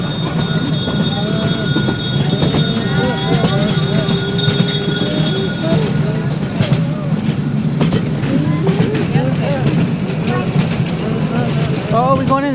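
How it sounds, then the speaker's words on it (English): A small ride-on train at a large model railroad museum rolls along with a continuous rumble and clatter, while children and adults talk and call out over it and a high whine runs through the first half. "Lanky, are you riding a train?"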